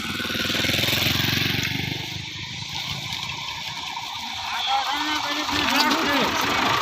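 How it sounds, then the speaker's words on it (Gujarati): A farm tractor in a Gujarati village pulls up, its engine chugging steadily at moderate volume beneath people talking nearby. "જો હવે ફરીને અમારું ટ્રેક્ટર આવી ગયું છે રાંધવા લઈને."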